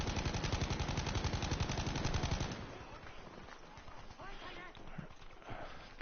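Rapid automatic gunfire rattles loudly in the Frontlines video game for a couple of seconds, then gives way to quieter scattered shots and game noise.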